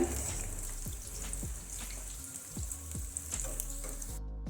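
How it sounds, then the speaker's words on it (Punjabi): Besan giriyan, small pieces of gram flour dough, frying in hot oil with a steady bubbling sizzle and a run of soft repeated clicks and taps, heard up close with no talking. "ਇਹਨਾਂ ਨੂੰ ਤੇਲ 'ਚ ਛੱਡ ਦਈਏ ਤੇਲ 'ਚ ਉਹ ਆਪੇ ਆਪਣੇ ਆਪ ਇਹ ਖਿਲਰ ਜਾਂਦੀਆਂ"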